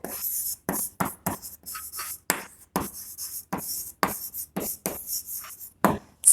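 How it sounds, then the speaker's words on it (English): Chalk or marker strokes on a classroom board during a biology lesson: a series of short, scratchy bursts in an irregular rhythm, each pausing briefly before the next, heard close with no talking. "I'll write it here."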